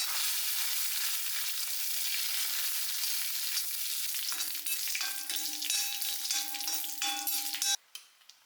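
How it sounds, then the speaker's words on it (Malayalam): Mustard seeds, curry leaves and dried red chillies sizzle and spit steadily in hot coconut oil in a clay pot, a close, continuous crackle with brief stirring scrapes near the end and no voices. "ഇതാ ചട്ടിയിൽ വെളിച്ചെണ്ണ പാർന്ന് നമ്മൾ കടുക് കറിവേപ്പില വറ്റൽമുളക് അത് നല്ലപോലെ നമുക്ക് താളിച്ച്"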